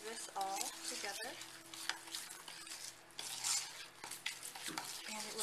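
Sugar, lemon zest, lemon and lavender flower buds stirred together in a bowl for a homemade body scrub, giving a steady gritty scraping and stirring with light clinks of a utensil throughout.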